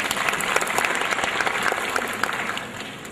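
A conference audience applauds steadily for about three seconds, a dense, even clatter of many hands that tapers slightly at the end.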